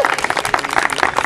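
Applause for trophy winners at an agility competition awards ceremony, a dense, lively patter of many hands clapping close by, steady and continuous throughout.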